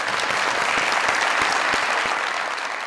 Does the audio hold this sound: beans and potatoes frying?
no